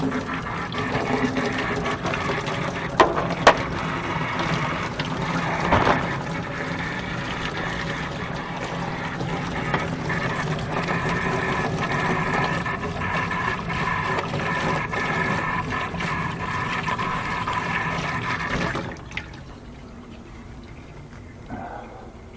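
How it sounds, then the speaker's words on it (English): Hot and cold water runs from a spigot over an old wash tub in a steady, fairly loud rush, stopping near the end and leaving a quieter background. "Water spigot, hot and cold"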